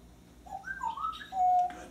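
A pet bird whistles a whippoorwill call, a few clear sliding notes ending in one long held tone, near and fairly soft against a quiet room.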